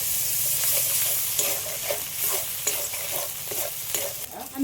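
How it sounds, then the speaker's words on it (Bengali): Chopped tomato goes into a frying prawn curry with chili powder, and a continuous sizzle carries on under repeated stirring and scraping strokes of a spoon against the pan. "একদম অল্প করে টমেটো কুচি নিয়েছি এটাও দিয়ে দিচ্ছি"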